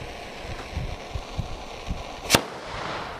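A homemade cannon fires a shotgun shell, giving a single sharp, loud bang near the end, preceded by faint scattered thumps and followed by a short fading rumble.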